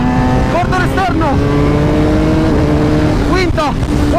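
Race motorcycle held at full throttle in fourth gear on the Vallelunga circuit, its loud steady engine note droning close throughout, with short rising and falling pitch sweeps as the rider works through the corner.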